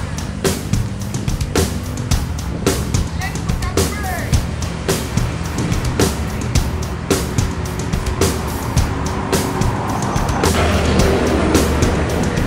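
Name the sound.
ANS intercity bus arriving in Solok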